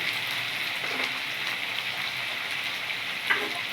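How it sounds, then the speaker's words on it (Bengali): Potatoes fry in hot oil seasoned with salt and turmeric, giving a steady, even sizzle like light rain, with a faint stir or clink near the end. "দেখুন এখানে ভালো করে ভেজে নিচ্ছি"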